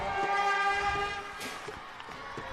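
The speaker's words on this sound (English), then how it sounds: "Looks like we've got a fan that brought a train horn today." A fan's train horn blasts at a high school softball game, a loud sustained multi-tone blare that holds then fades slightly, with crowd and field noise underneath.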